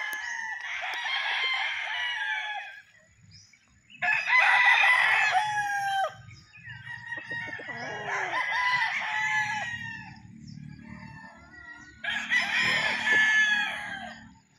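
Gamefarm roosters crow repeatedly, four long drawn-out calls spaced a few seconds apart, with softer clucking and farmyard murmur in between.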